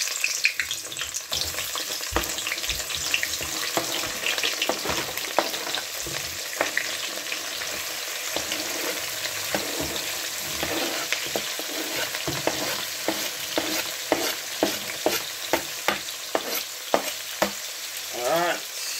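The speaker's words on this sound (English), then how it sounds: "Just frying up my seasoning them now." Seasoning fries in a hot pan for a mackerel dish, a steady close sizzle broken by frequent stirring clicks and scrapes throughout, with no voices.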